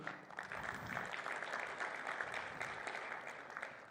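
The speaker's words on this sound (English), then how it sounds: "So a round of applause for you." An audience at an anniversary celebration in Rwanda applauds, a soft, steady patter of many hands clapping heard from a distance, continuing evenly for several seconds.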